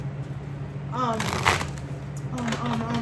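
Tarot cards are shuffled in short riffling bursts, two quick flurries of papery flicks, while a person talks softly over them.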